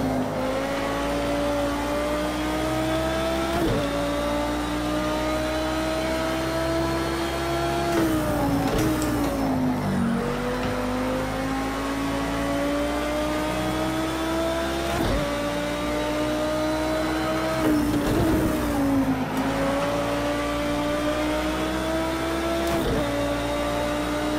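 A race car engine in Project Cars 2 drones steadily at high revs, with pitch dips and stutters as traction control cuts power in and out, continuous and close.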